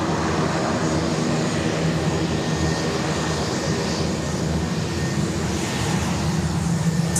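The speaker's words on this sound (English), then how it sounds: "It's a Jetstar. Jetstar 78, the 787-8s." Jetstar Boeing 787-8 jet landing at Sydney Airport, arriving from Honolulu: a steady, broad roar of jet engines that holds evenly at a moderate level throughout, with no voices over it.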